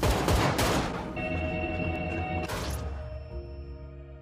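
Film gunfire: a burst of rapid shots at the start, followed by ringing tones, another sharp blast near the middle, and sustained loud, echoing din.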